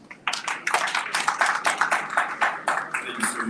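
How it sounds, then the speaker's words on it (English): Summit audience applauding, a burst of dense clapping that starts abruptly, swells and carries on steadily, fairly close and moderately loud, with no talking over it. "a big round of applause to yourselves for being so patient"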